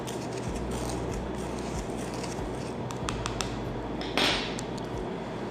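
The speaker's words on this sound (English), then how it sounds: "Now I will mix it with the help of the stirrer" A stirrer scrapes and clinks against a container while mixing a dry blend of sand, common salt and ammonium chloride, with a steady gritty rubbing and a few sharper taps, close and moderately loud.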